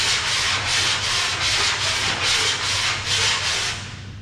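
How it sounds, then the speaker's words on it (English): Auto body filler being sanded by hand with 80 grit sandpaper, a rhythmic series of about eight scratchy back-and-forth strokes close up, steady and fairly loud. "We'll get rid of those file marks with some 80 grit."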